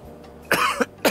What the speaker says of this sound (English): Sir, could you please cough for me?